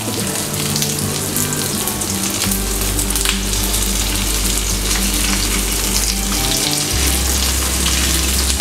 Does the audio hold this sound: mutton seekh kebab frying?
yes